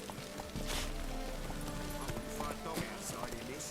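Steady clip-clop of a horse's hooves galloping along in The Witcher 3: Wild Hunt, a continuous close rhythm of hoofbeats with someone talking over it.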